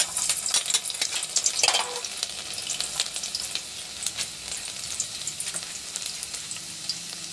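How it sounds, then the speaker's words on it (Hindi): Garlic sizzles and crackles loudly in hot mustard oil as it fries for a Meerut-style potato and fenugreek bhujia. The bursts are sharpest at first, then settle into a steady close frying hiss with occasional stirring. "अब हम इसके अंदर लहसुन डालेंगे।"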